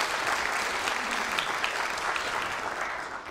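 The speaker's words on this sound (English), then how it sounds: "Can we give them a round of applause for this meeting?" An audience at a clinical research meeting claps steadily, a dense continuous patter of applause at even strength throughout, with no speech on top.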